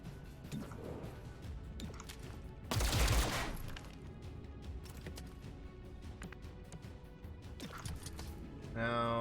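Gunfire from the XCOM: Chimera Squad video game: a single loud, sharp burst of shots roughly a third of the way in, standing out above a steady low backdrop of game ambience.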